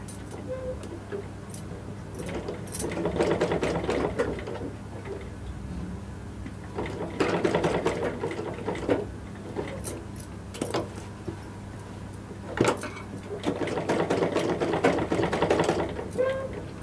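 A sewing machine stitches fabric with a lining for a blouse back-neck design, running in three bursts of fast mechanical whirring and ticking separated by brief pauses, close up and without speech.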